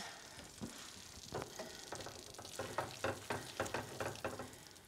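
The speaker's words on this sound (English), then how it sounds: "we're going to stir in our delicious cheese" Cheese being stirred into a thickened butternut squash risotto in a pot, quiet rhythmic spoon scrapes and soft squelching strokes over a faint background hiss.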